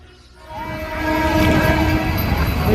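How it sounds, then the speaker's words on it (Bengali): A train pulls into a railway station, its rumble building from quiet to a loud, steady roar with sustained horn-like tonal bands over rolling wheel noise, close by. "ট্রেন চলে এসছে"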